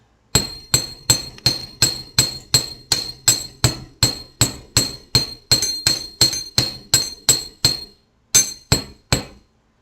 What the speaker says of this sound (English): I'm just going to hammer out this tip.